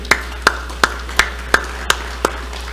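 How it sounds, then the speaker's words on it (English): Applause at a Rotary club meeting: seven sharp, evenly spaced claps at a slow, steady pace over a low constant hum, sounding like a single nearby pair of hands rather than a full room. "What a round of applause for Pete and RCO Law."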